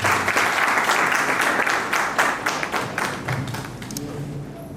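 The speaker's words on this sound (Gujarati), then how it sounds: "તો એમને આપણે ફરીથી એકવાર તાળીઓના ગડગડાટથી વધારે કરીએ." Audience applause for guests at a Rotary Club event, a crowd clapping loudly and steadily, then slowly thinning and fading toward the end.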